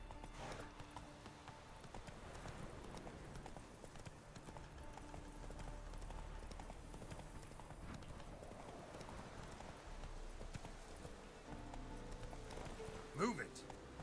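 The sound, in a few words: horse Roach galloping in The Witcher 3 video game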